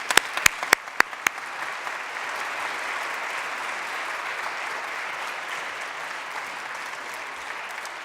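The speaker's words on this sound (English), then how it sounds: "welcome our panel with a round of applause" Audience applause welcoming a discussion panel at a community forum, opening with a few sharp separate claps before swelling into a steady, even wash of clapping that holds for several seconds.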